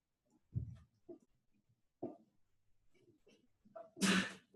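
A single loud sneeze bursts out near the end of a quiet indoor stretch of soft, scattered mouth sounds and breathing.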